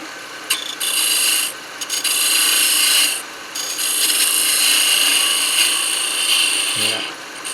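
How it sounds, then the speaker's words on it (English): A square skew chisel cuts wood on a lathe while turning a working lighthouse ornament, giving a steady, fairly loud hissing rasp that runs almost continuously, with a couple of brief breaks and no talk. "Take it off with the square skew."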